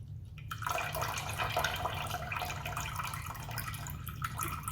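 Water poured steadily into a container in a kitchen while making sourdough, a continuous close splashing trickle lasting several seconds, with no speech.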